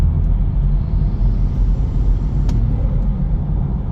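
A Gen 1 BMW B58 engine fitted with a B58 Racing titanium intake gives off a steady low rumble and drone, heard close and fairly loud with a brief click partway through.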